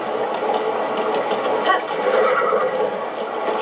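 A horse in Zelda: Breath of the Wild neighs and whinnies amid steady game ambience, the call sitting close and moderately loud with faint hoof-like clopping mixed underneath, no clear talk over it.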